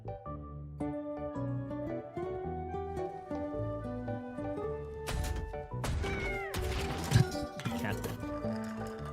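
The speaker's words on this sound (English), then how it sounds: "Cat." A cat meows several times in the Wuthering Waves video game, with drawn-out cries rising over layered game music and a talking voice.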